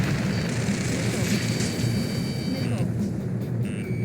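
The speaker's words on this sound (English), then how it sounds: "Ambush! Fire from the far shore! They're targeting us!" Enemy gunfire and explosions fill a battle in Ace Combat 7, a dense, continuous roar of booms and aircraft rumble with tonal whines on top and voices talking over it.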